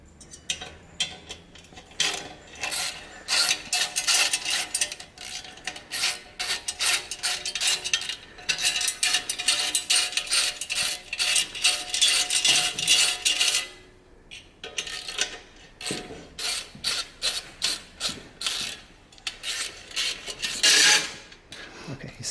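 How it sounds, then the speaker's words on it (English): Metal exhaust clamps on a Harley-Davidson Dyna being worked open by hand to free the heat shield, giving dense bursts of rasping, scraping metallic clatter, close and fairly loud, with brief pauses between strokes. "I just open the clamps now completely to be able to remove the heat shield from the bike."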